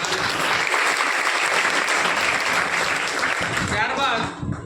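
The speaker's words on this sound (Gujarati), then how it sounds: "પહેલાં તો આપણે આ યોજના માટે એકવાર જોરદાર તાળીઓ" A school audience at an admissions festival claps loudly and steadily without a break, dense and close, then fades slightly at the end.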